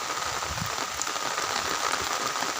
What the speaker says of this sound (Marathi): इतका जोरात पाऊस चालू आहे